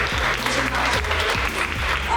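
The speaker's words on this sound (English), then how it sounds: "A big applause for all of them" Applause for a group of students at the LaunchPad Project launch in Malaysia, a continuous wash of clapping mixed with a voice and humming tones over the crowd.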